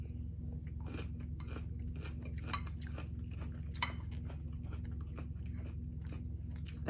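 Someone eats a lobster and salmon keto seafood dinner up close, with quiet, continuous chewing and frequent sharp crunches and bites, plus an occasional faint clink of cutlery, and no talking.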